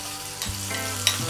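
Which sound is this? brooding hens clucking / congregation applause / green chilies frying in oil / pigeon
green chilies frying in oil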